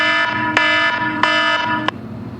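An alarm going off, a steady electronic tone with a sustained buzzing drone, broken by a few sharp clicks or knocks, loud and without voices.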